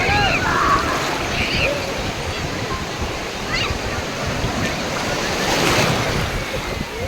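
Ocean waves break and wash steadily on Digha beach, a continuous loud roar of surf with wind buffeting the microphone and faint voices of bathers mixed in.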